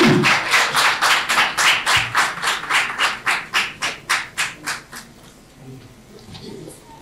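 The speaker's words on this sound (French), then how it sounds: "Merci d'applaudir très très fort, s'il vous plaît." An audience at the opening ceremony of an annual general meeting claps in slow, loud unison, about fifteen strong rhythmic beats that stop abruptly, leaving a quiet hall.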